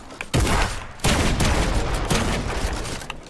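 Rapid gunfire in the video game Fortnite: two dense bursts of loud, overlapping shots, the second starting about a second in and rattling on continuously to the end, with no talking.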